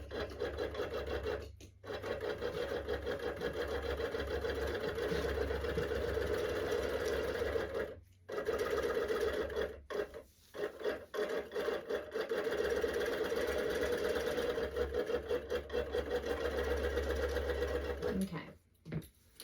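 A longarm quilting machine runs a steady, fast basting stitch on a kawandi quilt, humming and ticking continuously with a few brief stops, close and fairly loud.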